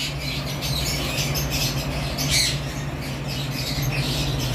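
Caged birds at a bird farm give repeated harsh squawks and chatters, several bursts in quick succession, fairly close over a steady background hum.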